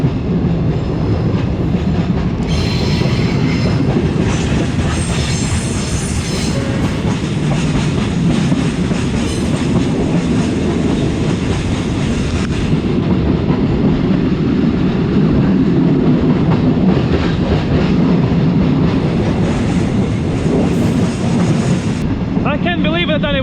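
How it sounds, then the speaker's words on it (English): Open wagon of a cement freight train rolling through Malaysia, with a loud, steady rumble and rattling clatter of wheels on rail lasting throughout, brief squeals and wind buffeting close by. "I decided to catch the cement train, and the wagon is extremely miserable"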